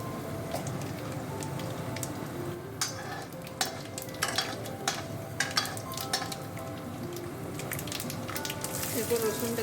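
Fenugreek and mustard seeds sizzle in hot oil while tempering for kadi pakora, a steady frying hiss with a spatula clinking and stirring against the pan at intervals, getting louder near the end.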